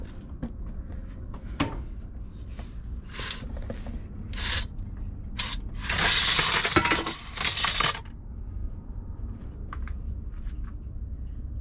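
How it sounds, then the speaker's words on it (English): Metal canning rings being put away into a storage container, scattered clinks and jangles with a denser rattling burst partway through, close by over a quiet room. "first thing I have to do is put all of my canning rings away in my canning garage"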